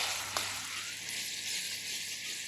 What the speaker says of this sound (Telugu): మన కర్రీ అయితే చూసారా మంచిగా బబుల్స్ వస్తున్నాయి చూడండి